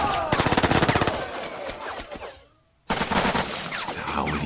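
Rapid automatic gunfire from the tactical video game Lock 'n Load Tactical Digital, with dense bursts of shots, a brief silent gap, then more firing resuming loudly.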